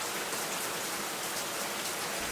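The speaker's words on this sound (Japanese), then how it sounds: "外では雨が降り出していた。" Rain falls outside a house under renovation, a steady, dense hiss of drops on surfaces that continues unbroken and fairly loud throughout.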